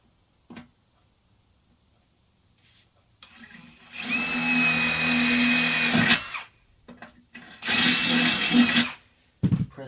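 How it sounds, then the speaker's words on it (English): A power drill bores a hole during a wood stove installation, running in two long loud bursts separated by quieter handling noises and short clicks, with no talking. "So we drill that one."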